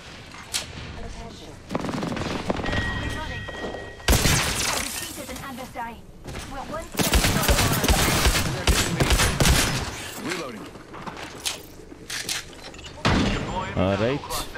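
Gunfire rattles in Apex Legends, with bursts of rapid automatic shots and heavy blasts coming in loud clusters between quieter gaps, and a player talking at times.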